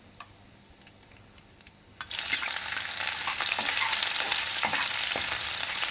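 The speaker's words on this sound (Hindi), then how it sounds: "राई और जीरा क्रैकल हो रहा है।" Mustard seeds and cumin crackle and sizzle in hot oil for a Maharashtrian snack, a soft hiss that suddenly bursts into loud, steady popping and spattering midway through, close up with no talk.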